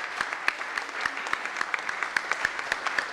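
Audience at a gospel church event applauding God, a dense steady patter of clapping with sharp individual claps standing out, moderately close, no clear voices over it.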